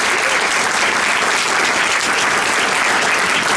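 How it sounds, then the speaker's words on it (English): A crowd at a city council candidates' debate in Mount Vernon gives a hearty round of applause for the candidates, a dense, loud, unbroken wash of clapping that lasts the whole moment with no voices over it. "We have one more hearty round of applause for our candidates."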